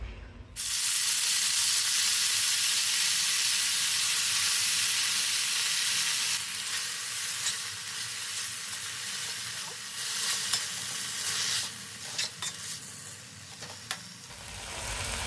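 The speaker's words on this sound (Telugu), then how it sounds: "ఇప్పుడు నూనె వేసుకోవాలి, కొంచెం పుదీనా వేయించుకోవాలి, పచ్చిమిర్చి వేయించుకోవాలి, పచ్చి కొబ్బరి అన్నీ వేయించుకోవాలండి." Mint leaves, green chillies and fresh coconut frying in hot oil: a loud, continuous sizzle and hiss that holds steady, then eases slightly, with scattered crackles and stirring clatter toward the end.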